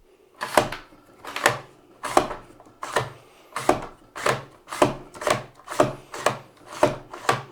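Potato cut into chips on a mandoline slicer set to thickness 5, about ten firm rasping strokes in a steady rhythm, close and clear with no talking.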